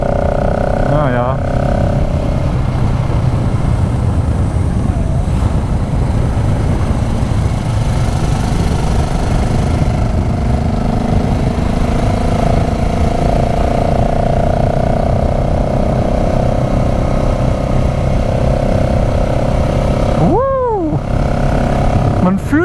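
A KTM SMC R 690 supermoto motorcycle is ridden, its single-cylinder engine droning steadily and loudly close to the rider throughout, with brief whooshing passes near the end.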